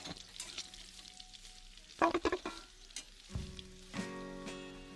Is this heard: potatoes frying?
yes